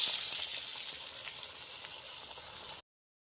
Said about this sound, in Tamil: எண்ணெயில் போட்டு நம்ம பொறிச்சு எடுத்துடலாம்